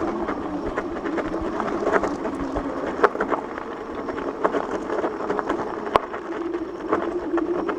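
A Tesway X7 AWD dual-motor e-bike climbing a hill on throttle power alone: a steady mechanical whir and rolling rumble with light rhythmic clicks and occasional sharp knocks, continuous and fairly close, no talking.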